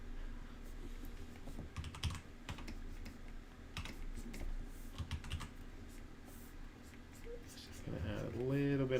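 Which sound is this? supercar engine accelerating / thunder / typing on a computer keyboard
typing on a computer keyboard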